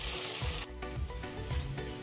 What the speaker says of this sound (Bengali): এখন আমি একটু ভালো করে ভেজে নিব চিংড়ি মাছগুলো।